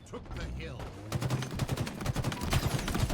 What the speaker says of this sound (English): You can hear gunfire underneath him.